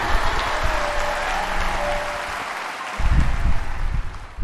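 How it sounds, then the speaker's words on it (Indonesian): Church congregation in Solo applauding a testimony, a broad wash of clapping that holds steady and swells louder toward the end, with no talk over it. "Tepuk tangan lagi."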